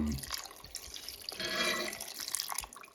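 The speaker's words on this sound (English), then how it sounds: "Now we're gonna add water." Water poured into a cooking pot while making Guyanese food, a splashing, trickling stream with a fuller gush in the middle before it tapers off, fairly quiet and with no talk.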